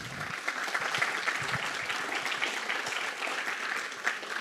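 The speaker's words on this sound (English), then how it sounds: "Clap for Maxime." Steady audience applause in a conference room at SeleniumConf and AppiumConf in Valencia, moderately loud and even, lasting several seconds without talk.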